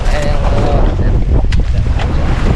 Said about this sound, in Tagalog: Laki na talaga ang alon.